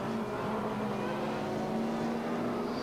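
A Jordan 194 3.5 litre race car at Mondello Park during a EuroBOSS race, its engine a loud, steady, sustained roar as it runs through Motorfit corner and down the main straight.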